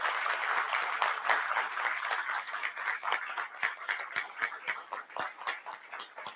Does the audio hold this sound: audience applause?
yes